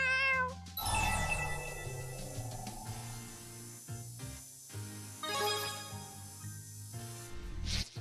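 Rollo the cat from the video game Tales of Xillia 2 lets out several meows, high and sliding, layered over tonal game music and effects.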